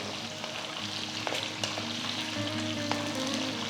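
Shallots and drumstick sauté in a pan for sambar over a medium flame with a soft, steady sizzle and a few light stirring taps, no voices.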